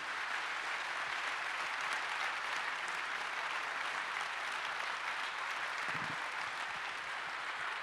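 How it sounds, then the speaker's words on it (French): An audience at a MEDEF summer university plenary session applauds Alain Juppé with sustained, dense clapping that continues evenly throughout. "Alain Juppé, on peut l'applaudir encore une fois"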